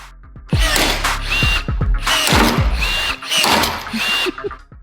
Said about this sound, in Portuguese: E os rebites são colocados e tinha um parafuso alto tarrachante embaixo.